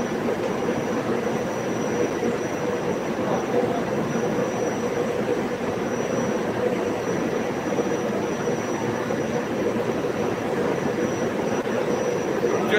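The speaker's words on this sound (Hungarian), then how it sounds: "most ezzel a vonattal én is megyek" A train rolls at a railway station in Sestri Levante, a steady moderate rumble with a high whine running throughout, no talk.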